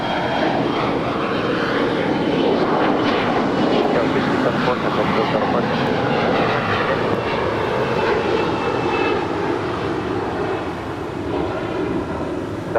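Airplane engine roar at Los Angeles International Airport, a loud continuous rumble that holds steady throughout, with airport radio chatter over it.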